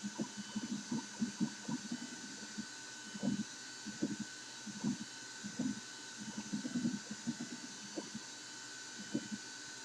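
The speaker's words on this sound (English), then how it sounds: "I've got to work on some noise dampening for the machines that are running" X-Carve CNC machines run in a garage, giving a steady mechanical whine with irregular bursts of stepper-motor chatter and cutting as the carriage moves, fairly faint and close.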